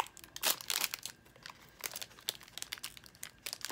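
A red plastic sleeve around a Funko Pop figure crinkles and crackles up close in bursts of rustling, with no one speaking.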